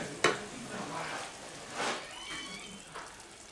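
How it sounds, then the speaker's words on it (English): Food is stirred in a pan while making creamed chipped beef for toast: soft, quiet scraping swishes in a few slow strokes over a faint background sizzle. "Give it a little stir."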